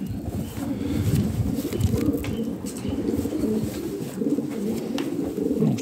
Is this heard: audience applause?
no